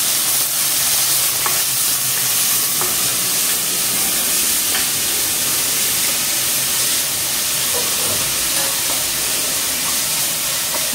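Onions sautéing in a pan for mutton keema curry, a loud continuous frying sizzle with occasional scraping stirs.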